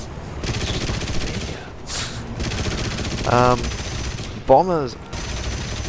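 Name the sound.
aircraft machine gun fire in War Thunder video game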